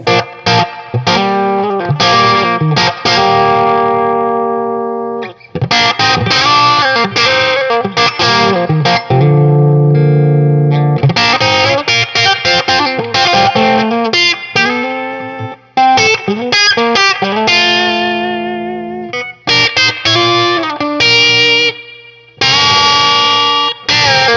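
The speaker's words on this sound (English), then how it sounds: "So there's a splash of reverb, okay, and that allows you to at least create some space" Distorted electric guitar chords and riffs played loud through an Analog Alien Rumble Seat pedal and amp, washed in reverb that leaves a spacious tail, with brief pauses between phrases.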